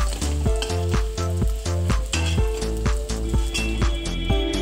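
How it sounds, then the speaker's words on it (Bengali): Potatoes fry in oil in a pan with a constant close sizzle, partly masked by steady, rhythmic background music with a regular beat. "এই যে দেখেন আলু লাল লাল করে ভেজে নিয়েছি"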